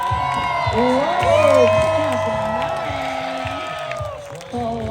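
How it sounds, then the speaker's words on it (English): Camp kids cheer and whoop as a loud crowd at a race at the Minnesota State Fair, shrill excited voices rising and falling continuously while an announcer talks over them. "Camp 13 is cheering for Nick out there"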